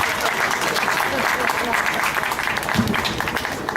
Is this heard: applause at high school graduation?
yes